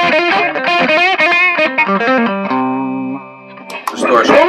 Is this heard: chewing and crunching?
no